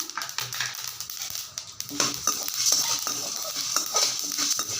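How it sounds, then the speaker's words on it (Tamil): Spices for tamarind rice roast in a hot pan, with close scraping and stirring clatter and soft crackling in an irregular rhythm, no voice heard. "கருக விட்டுறாமல் சிம்மில் வச்சு கொஞ்சம் ரோஸ்ட் பண்ணி எடுத்துக்கலாம்"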